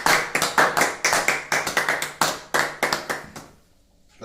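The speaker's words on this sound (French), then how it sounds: "Acclamons pour la parole." A church congregation claps in a quick, steady rhythm of sharp, close hand claps that keeps going for about three seconds before tapering into near silence.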